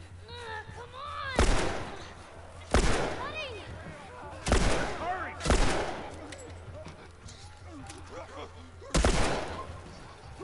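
Gunfire from The Last of Us video game, five sharp, loud shots spaced a second or more apart, each with a ringing tail, over voices talking in between.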